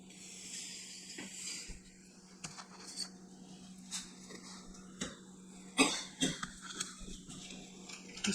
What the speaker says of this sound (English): He's coughing over the pepper in dinner.